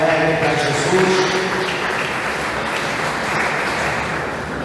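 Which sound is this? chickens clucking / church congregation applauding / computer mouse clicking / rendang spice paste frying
church congregation applauding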